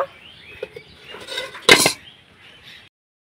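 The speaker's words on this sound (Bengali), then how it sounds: "এখন আমি থালাটা বসিয়ে দিব।" A metal plate of biscuits set down on a stand inside a wok: one sharp metallic clank near the middle, with faint softer scrapes and clinks before and after, close and otherwise quiet.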